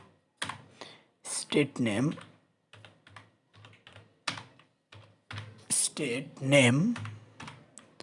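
Keys clack on a computer keyboard in short bursts of rapid typing, close and fairly quiet, alternating with someone talking.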